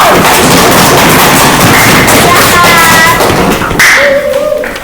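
Students in a classroom clap together for a group that has just finished presenting, a dense burst of close, loud claps that thins toward the end, with a few voices and whistle-like tones mixed in.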